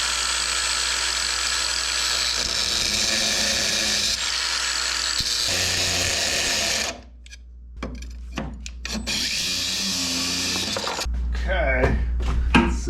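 A power tool grinds steadily through a part for a 1967 Mustang's electric power steering motor mount, loud and continuous, then gives way to shorter bursts of cutting and scraping.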